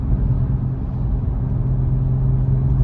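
Toyota Supra rental car cruising with a steady low engine rumble and road drone inside the cabin, constant and moderately loud with no talk.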